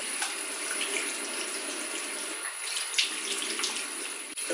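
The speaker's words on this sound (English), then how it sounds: "Once I'm done with that, I rinse my face." Tap water runs steadily into a bathroom sink while a face is rinsed, a continuous close hiss with small splashy variations and no talking.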